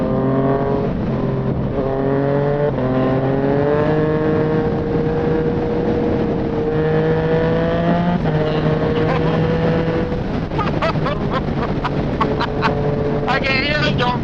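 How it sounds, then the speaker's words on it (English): Yamaha MT-09 motorcycle ridden at night on Malaysian roads, its engine droning steadily with rising and falling revs, loud and close, with wind rush and brief crackles near the end. "I can hear your bike, bro."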